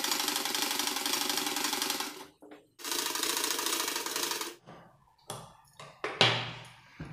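Sewing machine stitching a folded fabric neckline, two loud sustained runs of rapid mechanical whirring separated by a pause, then shorter stop-start bursts and clicks.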